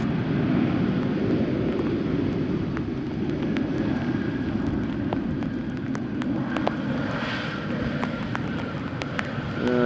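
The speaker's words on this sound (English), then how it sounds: "we're going to see the landing of this Embraer 190 arriving from Edinburgh" An Embraer 190 lands at Amsterdam Schiphol Airport during showery weather, heard as a steady, broad jet roar that holds throughout against wind noise, with faint clicks and no talk.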